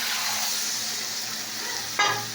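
Food frying in a pan with Bengali mustard spices, stirred steadily under a constant close sizzle, with a brief louder clatter of the spoon near the end.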